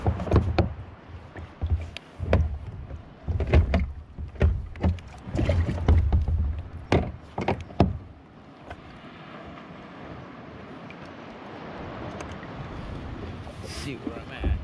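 Kayak bobbing on coastal water at Montana de Oro, with paddle and hull knocks and splashes in the first half, then softer lapping water and wind, with someone talking nearby.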